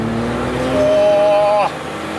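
BMW Kompressor car accelerating hard with wheelspin, engine note climbing steadily with a brief rising whine before cutting off, heard from inside the car.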